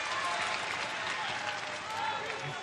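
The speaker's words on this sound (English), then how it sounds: "Shida getting a nice round of applause from everyone in attendance" Steady crowd applause fills a wrestling arena during an AEW Dynamite match featuring Hikaru Shida, a dense, continuous wash of clapping from the audience with faint voices mixed in.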